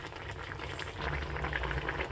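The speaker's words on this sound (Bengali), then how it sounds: "যে জলটা দিয়েছি সেটা ফুটে উঠেছে" Water bubbles at a rolling boil in a pot of mixed vegetables and raw paneer, a dense, continuous gurgling that grows slightly louder midway, with no talking.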